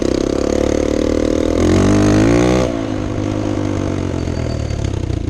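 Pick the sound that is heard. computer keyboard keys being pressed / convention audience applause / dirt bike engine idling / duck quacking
dirt bike engine idling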